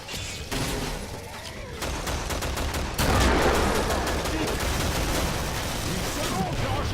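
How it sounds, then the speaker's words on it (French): Dense gunfire from the Killing Floor video game pours out in loud, rapid bursts of overlapping shots and mechanical clatter, continuing without pause throughout. "Là je suis vraiment en tir de sommation parce que je sais même pas où je tire"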